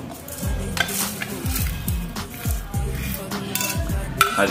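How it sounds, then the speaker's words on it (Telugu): Mustard seeds sizzle in hot oil in a pan as an Indian upma dish is started, with repeated stirring scrapes and metal clinks of a spoon against the pan over a steady frying hiss. "ఇప్పుడు కొంచెం ఆయిల్ వేసుకొని తిరమాత గింజలు వేసుకోవాలి మామ దీంట్లో ఫస్ట్."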